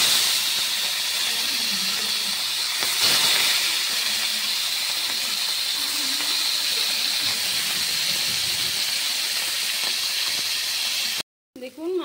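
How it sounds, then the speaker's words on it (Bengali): Small puti fish fry in hot oil in a frying pan, a loud, steady hiss and crackle held close for the whole stretch before a sudden cut near the end. "তেল গরম হয়ে গেল, এবার আমি মাছগুলি ভাজতে দিয়ে দিচ্ছি।"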